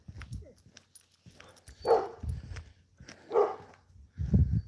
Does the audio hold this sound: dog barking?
yes